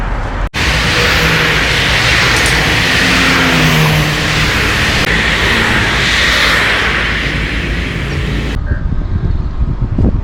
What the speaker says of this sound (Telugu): ఈ కార్ల మధ్యన రోడ్డు మీద కార్ ఆపుకొని ఈ కార్లు ఏమో సుయి అని పోతున్నాయి.